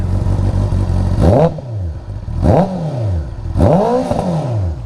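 A 2022 Honda CBR 650R with an Akrapovic exhaust revs three times over an idle, each blip climbing sharply and falling away, loud and close with no talk.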